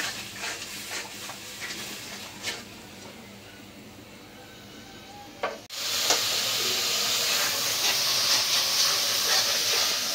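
Ginger-garlic spice paste sautéing in a pan in a village kitchen, a soft sizzle and stirring at first, then a sudden loud steady hiss of frying that continues to the end.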